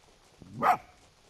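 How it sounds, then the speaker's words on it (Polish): A fox in the video game Spirit of the North gives a single short bark, a brief mid-pitched yelp rising out of quiet game ambience. "Szczekaj, ale no, lisy nie szczekają raczej."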